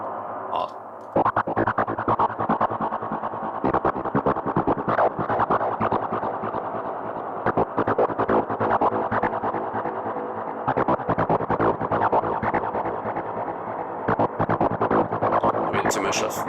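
Dense, sustained electronic synth tones washed in heavy reverb in Ableton, loud and continuous with a brief dip near the start and smeared, echoing tails throughout.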